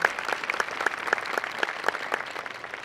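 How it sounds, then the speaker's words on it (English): An audience claps for the graduating class at Stokes Early College High School's 2017 graduation. The applause is brisk and continuous, with distinct individual claps in a lively patter. "Give them a round of applause"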